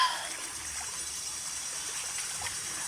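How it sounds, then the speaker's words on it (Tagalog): Water flows steadily in a stream in the middle of a river, a soft continuous trickling rush with faint splashes, even and moderately quiet throughout with no voices. "Dito kami sa kalagitnaan ng ilog"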